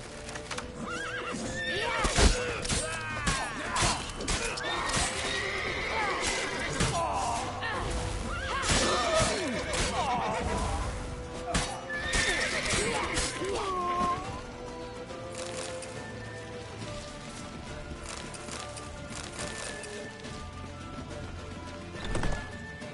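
Horse neighing and whinnying in The Witcher 3, loud repeated whinnies over busy clip-clopping hooves and a general action din, with a few shouted voices in the mix.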